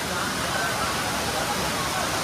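Loud, steady rushing of water at Bhushi Dam, Lonavala, roaring without pause, a continuous wash of noise that fills the whole moment.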